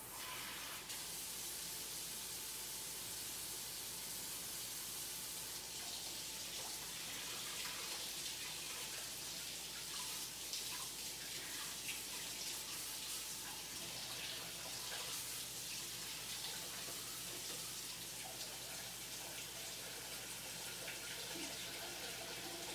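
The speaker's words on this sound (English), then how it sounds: "now I'm going to run this under hot water for about 10 seconds and wipe it off with a clean cloth" Hot tap water runs steadily over a cake spatula in a kitchen sink, a continuous even hiss and splash lasting throughout with no break.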